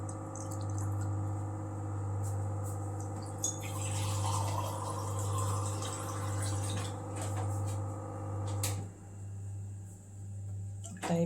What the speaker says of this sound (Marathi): आता ह्याच्यामध्ये पाणी टाकूया